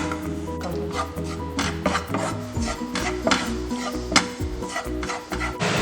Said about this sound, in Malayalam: നമ്മൾ കൈ ഇളക്കാതെ ഈ പൊടികൾ നന്നായിട്ട് ഇളക്കി കൊടുത്തുകൊണ്ടിരിക്കണം.